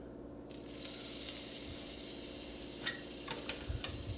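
Butter and oil sizzle in an already smoking hot pan, a steady bright hiss starting after a brief quiet moment, with a few soft pops and stirring clinks near the end.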